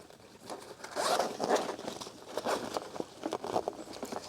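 A backpack zipper is pulled in several quick, scratchy strokes, close by and fairly quiet, with a soft rustle of fabric between pulls.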